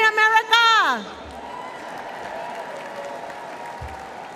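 A large crowd at the 2024 Republican National Convention applauds steadily, a broad wash of clapping heard after a voice briefly speaks at the start.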